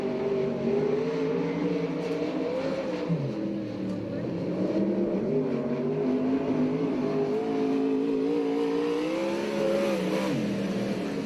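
A 360 sprint car engine drones steadily through a lap at a dirt oval in Alger, Washington, its pitch rising and dipping with the corners, heard from a distance under a public-address announcer.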